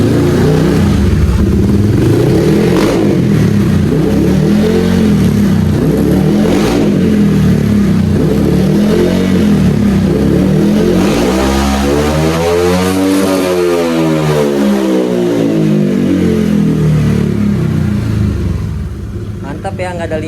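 A Honda Vario scooter engine with a newly fitted grounding cable revs hard and long, loud and close, its pitch rising and falling in repeated sweeps through the throttle.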